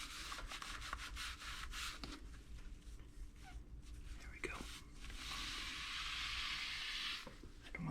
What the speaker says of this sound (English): use a terry cloth rag and just get all the haze off of the tile